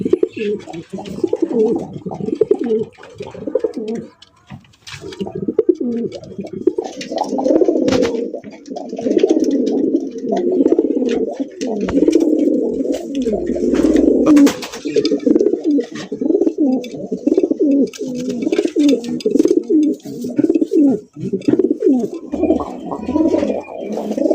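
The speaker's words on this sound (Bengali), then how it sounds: "একটা নরের ডাকের এক এক রকমের স্টাইল নিয়ে ডাকে" A male pigeon at a farm loft coos close up in a long series of rolling, throaty calls in his own varied style, with brief pauses between phrases and faint chirps behind.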